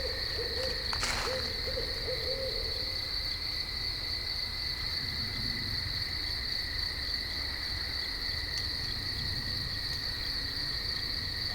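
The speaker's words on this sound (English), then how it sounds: "Sounded like a regular owl." Owl hooting at night in woods, a single faint distant hoot over a steady chorus of crickets and insects droning through the whole stretch.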